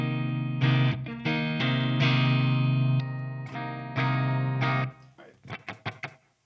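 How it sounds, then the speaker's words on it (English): An electric guitar plays on a clean amp tone through a Mesa 4x12 cabinet impulse, with sustained ringing chords and single notes close up, followed by a series of short plucked notes that decay quickly. "So this is my clean tone in front of the amp."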